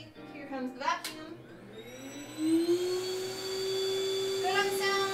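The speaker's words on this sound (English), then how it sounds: "Here comes the vacuum." Vacuum cleaner running during a crafting session, a whining motor that ramps up in pitch and then holds a loud steady drone, with a brief burst of higher noise near the end.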